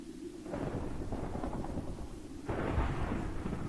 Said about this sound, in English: You can hear the wind too, it's howling